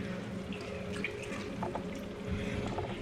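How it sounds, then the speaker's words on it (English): Water is poured into fish tikka masala curry simmering in a pan, giving a sustained splashing, sizzling wash with small bubbling bursts throughout, close and moderately loud. "we will also add about a 1/4 cup of water"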